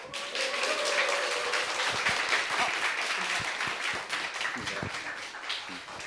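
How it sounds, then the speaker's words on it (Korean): Audience applause welcoming a speaker to the stage at a business talk, a steady wash of clapping from many people that fades toward the end, with a few scattered sounds and some voices. "큰 박수로 모시겠습니다."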